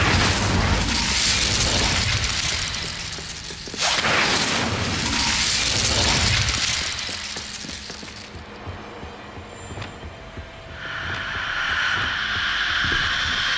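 Spell blasts from Confringo and Incendio in Hogwarts Legacy erupt as loud, booming bursts one after another, with a crackling fiery rush and softer magical flares fading out toward the end.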